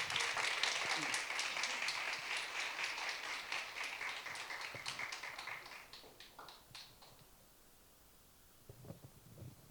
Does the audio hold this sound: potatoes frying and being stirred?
no